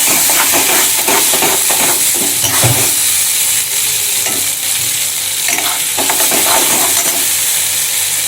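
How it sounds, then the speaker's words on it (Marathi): Masala frying in oil in a pan while being stirred, a loud, close sizzle with repeated scraping and stirring strokes at an uneven rhythm throughout, no talking. "या मसाल्याला जोपर्यंत थोडं तेल सुटत नाही आणि मसाला छानपैकी भाजत नाही तोपर्यंत हलवत राहायचं आहे"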